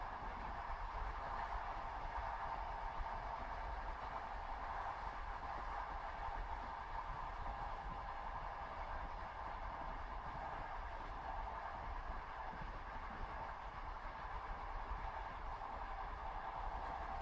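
A night train on a winter journey rolls along with a soft, steady low rumble and a faint mid-pitched hum, even and unchanging throughout, ending in a brief sharp click.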